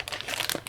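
Crinkling of a plastic Ziploc bag holding a VX4 in good condition, a close, continuous papery rustle with small crackling bursts and no talking.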